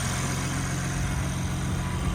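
A stock S58 engine in a 2023 BMW M3 Competition runs at a steady idle, a continuous low rumble held close and loud with no voices over it.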